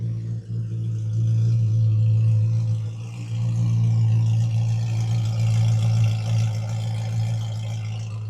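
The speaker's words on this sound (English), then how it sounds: "But I like that sound of the idle" A Chevrolet C8 Corvette Z06 engine with titanium catless catback exhaust idles steadily with a deep, throaty exhaust rumble, close and continuous, dipping slightly once before settling back.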